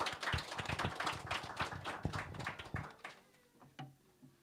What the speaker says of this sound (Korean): 우리 조금 늦었지만 축하의 박수 하겠습니다